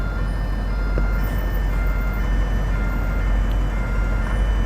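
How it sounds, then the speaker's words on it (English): A bus reversing alarm beeps steadily over loud, continuous engine and traffic rumble on a Denver street on a Saturday night. "This bus has an alarm."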